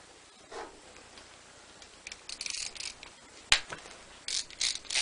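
A wrench ratchets on a part of a Lister Petter 4-cylinder OHV 16 kW generator engine during a rebuild, giving quiet bursts of clicking with short pauses between them, close by.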